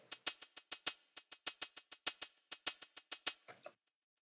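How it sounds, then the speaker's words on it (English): Dry, crisp trap hi-hats with no EQ or compression, ticking out a fast, slightly uneven pattern of about two dozen short hits with rolls, close and alone, ending with a soft tail. "So without these effects, it sounds like this."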